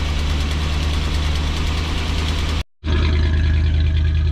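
An RV motorhome engine idles steadily while warming up after a rebuilt transmission install; an exhaust leak is present. The close, even, mid-pitched drone carries on alone, cut by one momentary dropout partway through.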